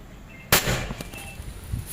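Single sharp shot from a Predator Monel folding airgun with a 30 cm Yumaja barrel, a loud crack at half a second followed by a short decay and faint handling noise, ending with a second click.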